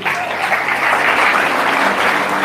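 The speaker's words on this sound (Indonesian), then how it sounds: "Tepuk tangan untuk Yesus." A large congregation at a church healing service in a hotel ballroom breaks into loud, sustained applause, a dense wash of clapping that holds steady for a couple of seconds with no talking over it.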